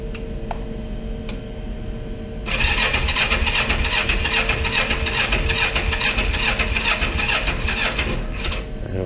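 A motorcycle's starter cranks loudly and steadily without catching, the engine apparently out of fuel, after a brief stretch of quieter ticking and background hum.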